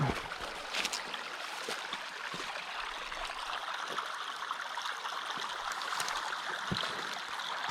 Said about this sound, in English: White water coming down out of the hills there that we just rode down.